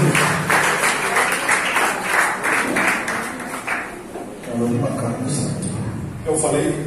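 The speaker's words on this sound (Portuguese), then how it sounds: "Vamos aplaudir para a honra e glória de Jesus" A church congregation applauds together for several seconds, a dense wash of clapping mixed with voices and music, fading briefly before picking up again.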